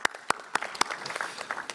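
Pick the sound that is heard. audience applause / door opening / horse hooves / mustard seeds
audience applause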